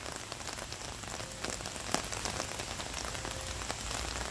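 Steady rain falls outdoors across the Cornell Botanic Gardens in Ithaca, a dense, even hiss of drops pattering on leaves and surfaces with a few louder individual splashes, no voices.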